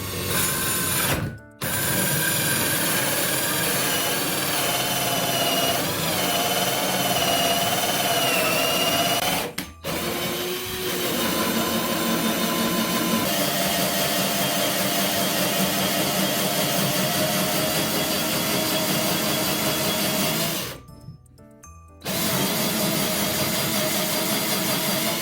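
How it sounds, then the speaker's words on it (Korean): An 18V cordless hammer drill in low gear bores slowly through a 52mm hole in soft structural lumber, a steady loud motor whine with brief pauses near the start, around ten seconds and about twenty-one seconds. "1단으로 놓고 천천히 뚫었습니다."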